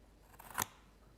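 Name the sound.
scissors snipping card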